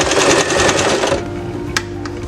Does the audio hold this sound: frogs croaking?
no